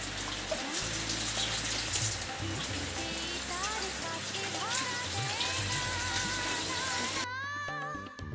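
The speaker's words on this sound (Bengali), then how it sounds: "এবার আমি এটাকে বেসিনে নিয়ে গিয়ে ধুয়ে নেব" Rice mixed with mung and masoor lentils being washed at a sink, running water splashing steadily and close with sloshing as the grains are rinsed, with faint background sounds and no clear speech.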